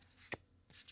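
Tarot cards are shuffled in two quick, faint riffling bursts, close by and quiet, with a short pause between them.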